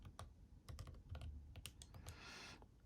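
Someone types on a computer keyboard, a faint, quiet run of irregular key clicks followed by a short soft rustle at the end.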